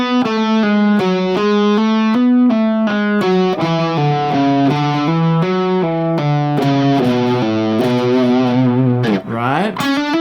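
Distorted electric guitar plays a fast legato lick, a rapid continuous run of smoothly connected notes repeated across different string sets, loud and upfront, ending in a quick bend-like slide.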